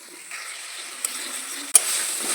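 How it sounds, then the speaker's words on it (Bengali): Spice paste sautéing in oil for Bengali aloo chicken, a soft continuous sizzle with a couple of sharp stirring clicks, close and alone. "এইবার আমি ভালোভাবে কষিয়ে নিচ্ছি, এরও তেল ছাড়বে।"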